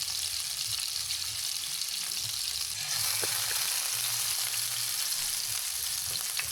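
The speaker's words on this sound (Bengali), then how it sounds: "আমি এখন এগুলো ভালো করে নেড়ে চেড়ে নিচ্ছি" Ginger, garlic, chili powder, turmeric and salt frying in a pan for a hilsa curry, a dense, even hiss of sizzling oil with faint stirring scrapes, no speech.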